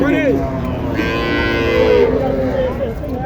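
Cattle moo loudly and close by at a livestock market in Joypurhat, Bangladesh, with overlapping calls and a busy crowd murmuring in the background.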